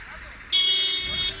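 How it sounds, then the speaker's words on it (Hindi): A car horn blares for about a second in heavy road traffic, a loud steady tone above a constant low rumble of vehicles. "like full on traffic"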